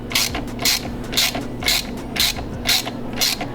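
A ratchet wrench clicks steadily as the belt tensioner on an FD3S Mazda RX-7 is loosened, giving a loud, close, even run of sharp metallic ticks about every quarter second.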